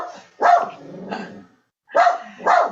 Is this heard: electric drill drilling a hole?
no